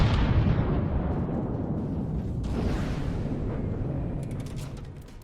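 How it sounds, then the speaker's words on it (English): APS shells striking an enemy ship in the naval combat game From the Depths, heavy booming impacts and explosions rolling together in a dense rumble, fading slightly toward the end with faint crackles. "Those APS shells making their mark."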